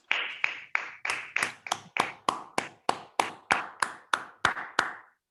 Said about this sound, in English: Please unmute and give him a big round of applause.